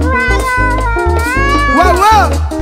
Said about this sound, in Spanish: Este gato alto en maña me tiene alto a mí ya.